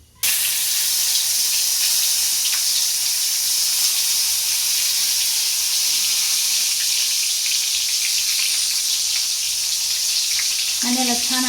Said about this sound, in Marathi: आता हे भरून घेतलेले वांगे आपल्याला त्या तेलामध्ये सोडून द्यायचे.